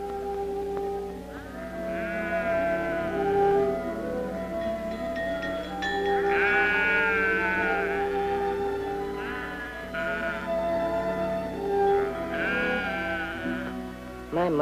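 A flock of sheep bleats repeatedly while being moved out of a corral, several wavering calls overlapping at moderate distance over a steady low background, with no talking.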